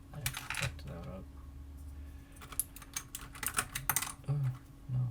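Keys of a mechanical computer keyboard with a satiny finish clatter and tap in irregular bursts while it is cleaned, close and fairly quiet, with faint low handling noise between.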